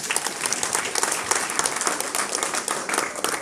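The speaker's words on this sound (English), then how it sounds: "I think you should clap for that." An audience at a cyber security graduation ceremony claps steadily for a few seconds, a dense wash of many hands close by with no voices over it.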